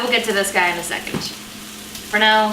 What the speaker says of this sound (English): You might hear the angry sizzling behind me.